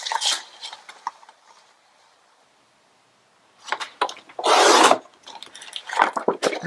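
Craft cardstock sheets being cut in half, with scattered scraping and rubbing strokes, a quiet pause, then a louder sustained rasping slice and more handling noises nearby.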